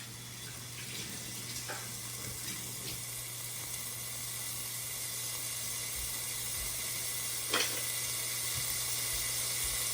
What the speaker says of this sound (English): you can hear the bacon sizzling